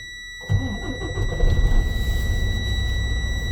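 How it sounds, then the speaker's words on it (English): A semi truck's engine cranks and fires at a Class A pretrip inspection, then settles into a loud, steady diesel idle while the air pressure builds, with a high whine running throughout. "now I'm going to turn the truck back on and build the air pressure back up to the governor cutout rate"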